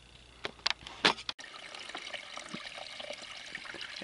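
Toilet flush draining through a septic pipe, heard from underneath: a few sharp knocks and gurgling bursts, then a soft steady trickle and rush of water running through the line, fairly faint.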